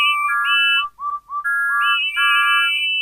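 Steam engine whistles in a Thomas the Tank Engine style remake sound in close succession, several overlapping high tuneful toots, loud and bright, with short breaks between bursts.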